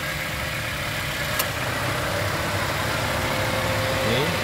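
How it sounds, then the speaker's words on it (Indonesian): A 2011 Daihatsu Terios TX automatic engine idling smoothly and steadily, with a faint brief click partway through and a low background hum. "Suara mesinnya masih halus."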